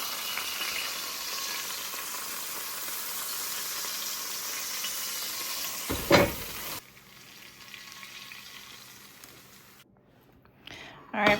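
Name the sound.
batch of fries frying in cast-iron pan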